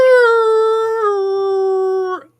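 A long, wolf-like howl with a rich harmonic tone, sustained at steady pitch for about two seconds and dipping slightly midway before trailing off into silence, loud and alone in an echoing chamber.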